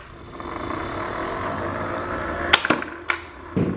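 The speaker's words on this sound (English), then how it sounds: "since this toy makes that weird noise, I want Guppy to get used to it" An automatic ball launcher dog toy whirs steadily for a few seconds, then fires with a quick series of sharp clacks and thumps as the ball shoots out, close by, with no talking.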